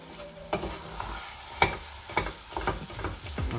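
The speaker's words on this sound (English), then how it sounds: "Mix it very, very well and put the heat down" Food being stirred and mixed in a hot frying pan for Transylvanian steak, a steady sizzle broken by irregular scraping and clattering strokes of the utensil, close and fairly quiet.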